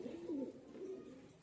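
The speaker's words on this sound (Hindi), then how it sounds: "ये देखो पूरे फ्लायर कबूतर है, हाई फ्लायर।" A high flyer pigeon gives a soft, low cooing call, two brief murmuring phrases, faint and close in a quiet setting.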